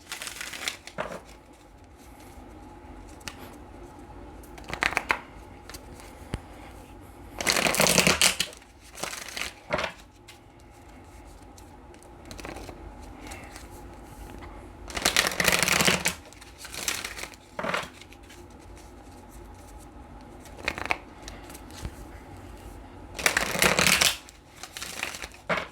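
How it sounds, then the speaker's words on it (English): Tarot cards are shuffled in several bursts of riffling and crinkling card sounds, with quieter handling and soft rustles between them. The sounds are close and fairly faint. "let's go ahead and pull some tarot"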